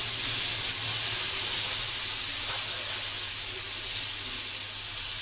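Tomato puree sizzles in a hot pan for marinara sauce, giving a loud, steady, bright hiss that carries on evenly without a break and with no voices over it.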